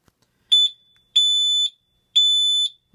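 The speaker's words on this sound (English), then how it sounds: "Oh, there goes the buzzer again." Summit SFC-105 fire alarm panel buzzer sounding in three loud, steady electronic beeps of about half a second each, separated by short silent gaps, close up in a quiet room.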